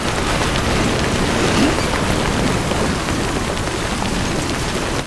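Steady timefall rain pours in Death Stranding, a dense, even hiss of falling rain filling the whole stretch at constant loudness, close and enveloping, with no voices over it.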